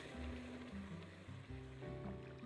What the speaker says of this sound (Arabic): وهبتدي بقى انزل من الشربات اللي عندي اللي سخن ده